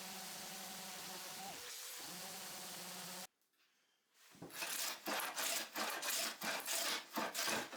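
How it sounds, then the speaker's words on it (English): Sanding and hand planing along the wooden edge of a workbench: a steady dense rasp of abrasion, a short pause, then a run of rhythmic scraping strokes close by, with no talk. "I sanded, hand planed, and sanded some more the edge of the workbench"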